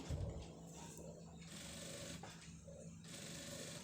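A sewing machine stitches a blouse sleeve, turned slowly as it sews. A steady mechanical whirr runs close and continuous, briefly easing in a couple of places, with no talking.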